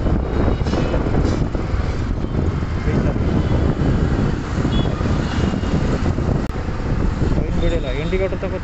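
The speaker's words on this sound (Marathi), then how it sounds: "आवाज पण येऊ शकणार नाही आहे कारण की वारा खूप सुरू आहे" Strong wind buffets the microphone outdoors beside a road, making a continuous low rumbling roar that covers the whole stretch.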